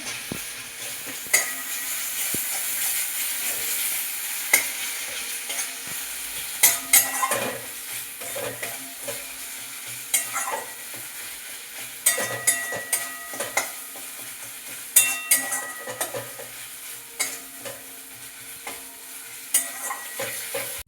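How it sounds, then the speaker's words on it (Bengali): Tomatoes and garlic sizzle steadily in a pan while a utensil stirs them, with frequent scraping and clinks against the pan throughout. "আর ওটা একটু ভাজা ভাজা করে নেবো"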